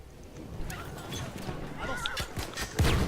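A horse in the Battlefield 1 World War I shooter gives a brief whinny amid battle noise and thumps, while players talk over it.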